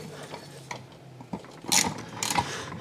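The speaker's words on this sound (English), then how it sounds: "Now I can take off the lock nut. Just gonna use standard inch and 1/16 socket." A ratchet on a 1-1/16 inch socket loosens the prop lock nut of a Mercury 90 HP four-stroke outboard, with a few close, uneven clicking turns and metallic clanks.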